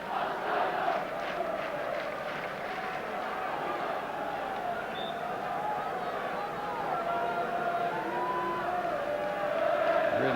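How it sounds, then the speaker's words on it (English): Large, sunbaked football stadium crowd at a 1978/79 Division One match between Arsenal and Manchester United, a broad continuous roar and murmur of thousands of fans with distant shouts swelling slightly toward the end. "Really big sunburned crowd here today."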